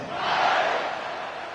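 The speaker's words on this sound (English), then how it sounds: "this crowd is buzzing after that last score" Stadium crowd in a college football video game between Texas and South Carolina, a loud, broad roar of many voices swelling and then holding steady after a score.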